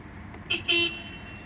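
A Volvo VNL 860 truck's city horn sounds in two short, bright honks close by, the second a little longer, heard from inside the cab with no talking.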